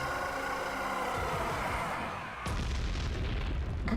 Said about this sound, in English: High detail explosion.